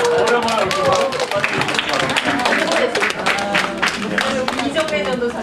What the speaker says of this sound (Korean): 다 같이 박수로 다시 한번 오랜만에 오신 분